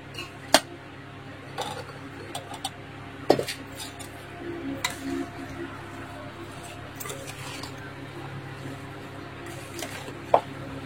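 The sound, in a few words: mixing mango pickle in a pot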